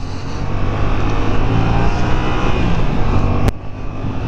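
A 2015 Yamaha FZ-07 motorcycle engine pulls steadily under acceleration, a continuous close drone with wind rush and a brief sharp click near the end, no talking.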